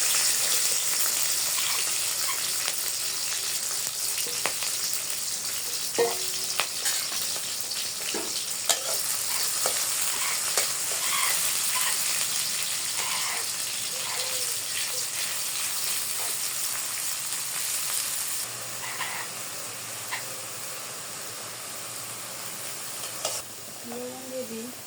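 Chopped onion frying in oil in a wok for bitter gourd in a village kitchen, a steady dense sizzle with occasional stirring scrapes and clicks, continuous and fairly close throughout.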